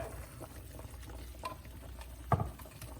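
A pot of sausage boiling for a lowland country shrimp boil, quiet bubbling and liquid patter close by, with a brief louder knock near the end.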